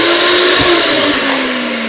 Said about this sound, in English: Oh no, my blender's broken.